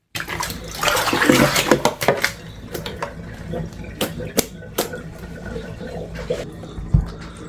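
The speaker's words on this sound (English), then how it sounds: "I am giving this watermelon a thorough bath because we'll be including the skin in our juicing." Running tap water splashes over a whole watermelon as it is washed, skin and all, with scattered knocks and rubbing handling sounds close by.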